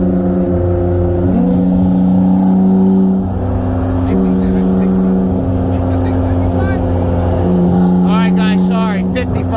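A 2016 BMW M4 and a 2017 Nissan GT-R, both on E85 with full bolt-ons and water/meth on the BMW, roar loudly through a roll race from 60 mph, engines droning steadily with shifts and passing whoosh.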